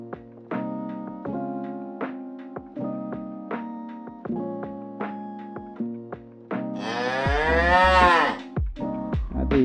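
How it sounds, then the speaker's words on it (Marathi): A cow on a Mumbai street gives one long, drawn-out moo near the end, loud and close, over a steady, rhythmic idling motorbike engine that runs throughout. "गाय देखो ना, देखो ना, गाय देखो ना."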